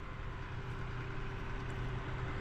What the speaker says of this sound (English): I apologize for that tractor noise.